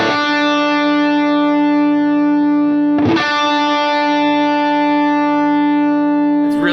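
An electric guitar played through a Line 6 Helix with the ripple control maxed holds a sustained, buzzing, harmonically rich note with a low undertone beneath it, re-struck once partway through.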